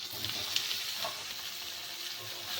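Pre-fried potatoes and young jackfruit sizzle steadily in hot oil in a pan, a continuous close hiss with a faint clink or two and no voices.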